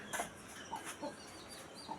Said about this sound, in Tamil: ஒரு கோழி வந்து உள்ளே உட்காந்துருக்கு